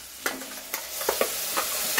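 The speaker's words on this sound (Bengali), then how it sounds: "এবার সেই মশলাটা কিন্তু এর মধ্যে আমি ঢেলে দেবো" Spice paste poured onto fried potatoes for an egg chorchori, then stirred in the pan: a few soft scraping stirs and light clatters spread over a low background sizzle, close by.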